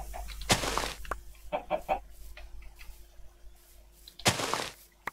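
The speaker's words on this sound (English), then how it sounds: "Chickens! We don't need chickens at this point in time." Blocky Minecraft chickens cluck nearby in a few short bursts, with quiet gaps between them over a faint steady hum.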